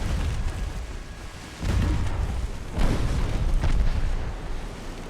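A warship blowing up in the naval game Ultimate Admiral: Dreadnoughts, its torpedo launcher hit: a deep rumbling blast swells at about 1.5 seconds, with a second heavier boom near 3 seconds and a rolling roar trailing after.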